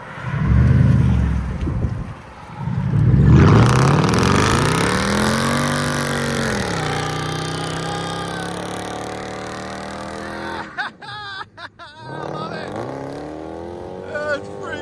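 A Lexus LS 430 with a 4.3L V8 and true dual straight pipes roars loudly up close through deep revs that swell and slowly fall, then barks through several sharp throttle blips.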